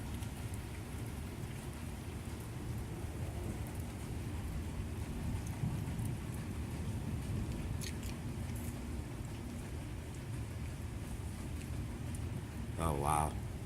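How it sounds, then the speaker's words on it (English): Heavy rain pours steadily during a thunderstorm, a dense continuous wash of drops close by that barely changes over the whole stretch, with a short brighter burst near the end. "And it's raining a little heavier."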